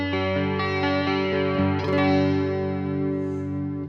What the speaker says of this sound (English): Now when I turn it on, you'll hear it basically functions like a chorus pedal.